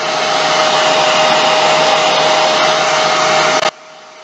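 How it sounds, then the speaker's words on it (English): A blow dryer runs loudly with a steady, whooshing roar close by, then abruptly switches off near the end. "put the blow dryer on that. So forgive the noise for a second"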